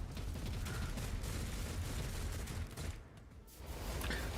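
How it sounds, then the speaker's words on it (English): Auto turrets firing in a Warhammer game against the forces of Chaos, a dense, steady mechanical clatter of rapid shots that runs almost continuously and dips briefly near the end before resuming. "Oh yeah, auto turrets."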